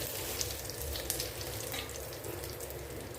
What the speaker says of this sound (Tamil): சோம்பு நல்லா பொறிஞ்சு வரட்டும் கொஞ்சம் கருவேப்பிலை